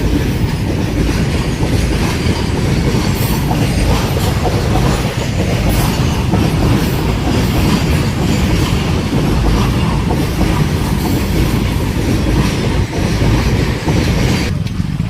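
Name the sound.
train passing at a railway crossing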